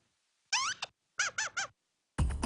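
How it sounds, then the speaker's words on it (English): A squeaky toy squeaks in short bursts: one squeeze, a pause, then three quick squeaks and a final longer squeal, close and clear against silence. "You literally just took a squeaky toy and made it into a character."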